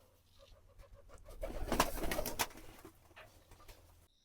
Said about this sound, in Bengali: আর কবুতরগুলোকে আরেকটু খাবার দিয়ে দিই